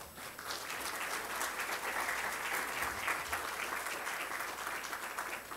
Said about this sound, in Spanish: para les brindamos un fuerte aplauso